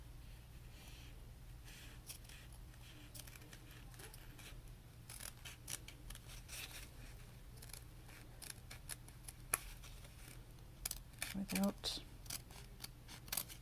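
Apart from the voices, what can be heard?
scissors cutting tags out of shoe mesh backing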